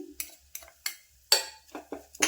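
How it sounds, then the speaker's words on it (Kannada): Spices stir-roasted in a pan with the stove switched off, a series of sharp, close spatula scrapes and taps against the pan, about eight distinct strokes with brief quiet gaps between them. "ಸ್ಟವ್ ಆಫ್ ಮಾಡಿಕೊಂಡೆ ಇದಕ್ಕೆ ಹಾಕ್ಕೊಂಡು ಹುರ್ಕೋಬೇಕು"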